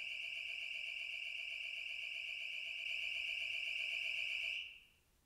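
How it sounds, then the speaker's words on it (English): Electronic alarm sounding inside an old house that was once a funeral home; a loud, steady high-pitched tone with a pulsing edge that holds for over four seconds, then cuts off abruptly into quiet room noise. "It's not funny setting the alarm off."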